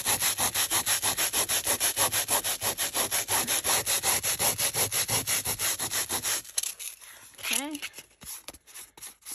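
Sandpaper rubbed over aged paper pages in quick, even back-and-forth strokes, close and scratchy, stopping partway as a voice speaks briefly afterward.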